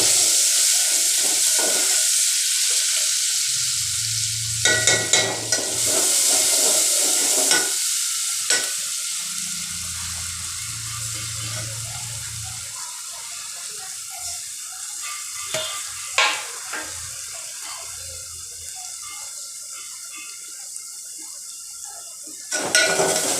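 Stuffed eggplant masala with bombil being stirred and fried in a pan: a steady sizzle is broken by repeated scraping and clinking of a spoon against the pan, with pauses between the bursts of stirring.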